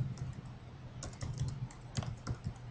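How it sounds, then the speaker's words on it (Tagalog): Typing on a computer keyboard while entering an address into an online registration form, a steady run of close, light key clicks with small bursts and brief pauses, and no talking. "i-type po natin yung address"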